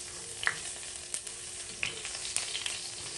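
Garlic sizzling in hot cooking oil in a pan, a steady close hiss with a few small pops and crackles, no voices.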